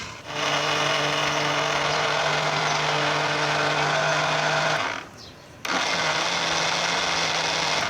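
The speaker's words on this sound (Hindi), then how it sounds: "ये ग्राइंडर में ही ठीक से मसाला तैयार होगा।" Electric kitchen grinder whirring steadily as it grinds a masala spice paste for handi seekh kabab karahi, a loud continuous motor drone with a low hum that cuts out briefly near the end, then restarts.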